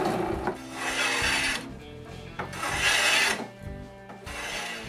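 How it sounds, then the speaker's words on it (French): A jack plane shaves wood to round the top edge of a support in a drilling jig, giving two long rasping strokes with a quieter gap between them, close and steady with no talking. "Je fais un arrondi sur le haut du support avec une varlope."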